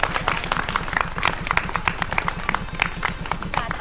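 A studio audience at a children's program on Pécs city television claps steadily for a couple of seconds. Dense, fairly close hand claps sit over a low repeating thump in the background.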